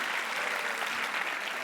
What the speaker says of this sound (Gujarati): તો ફરીથી તાળીઓના ગડગડાટથી વધાવશો